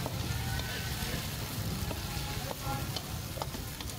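Luffa gourd stir-fried with duck egg in a Cambodian home kitchen crackles with a steady, close sizzle, broken by light scraping and stirring taps.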